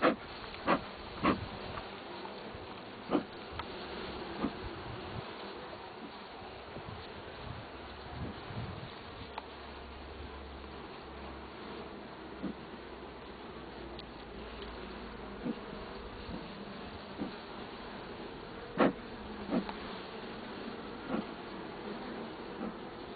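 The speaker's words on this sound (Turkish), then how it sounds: "Şu an ikinci kovanımızı ziyaret etmiş durumdayız." Honey bees buzz around an opened beehive during brood frame work, forming a dense, continuous drone that is quiet and close. Louder individual bees pass the microphone now and then, and a few soft clicks and rustles come through.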